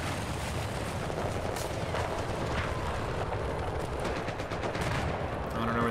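Gunfire in Battlefield 4 rattles in bursts across a noisy battlefield, a mix of distant machine-gun chatter and single shots under constant rumbling background noise.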